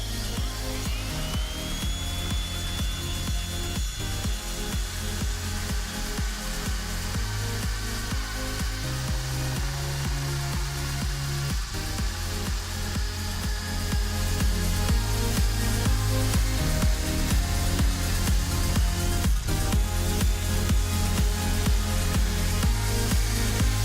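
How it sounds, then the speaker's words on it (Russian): Handheld diamond core drill boring through an old reinforced M400 concrete panel block with 20 mm rebar, a steady loud grinding whine with a shifting pitch running continuously throughout. "Будем сверлить бетонный блок М400 бетон от старых панелек армированный"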